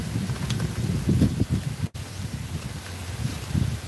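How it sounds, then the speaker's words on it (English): Strong wind buffets the microphone with continuous rumbling gusts, and faint rustling runs underneath. "So windy, guys."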